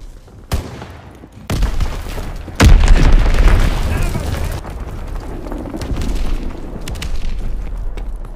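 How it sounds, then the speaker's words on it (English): An enemy bomb goes off in a WW2 shooter game: a sharp crack, then a second heavy boom with a deep rumble that rolls on under continued battle noise and a voice speaking. "Enemy bomb incoming! Get to cover!"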